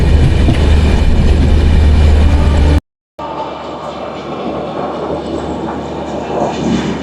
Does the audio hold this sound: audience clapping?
no